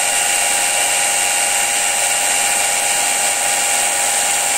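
A Soviet-era electric jigsaw runs steadily at speed, a continuous loud whining buzz with a bright, sustained tone and no pauses or voices.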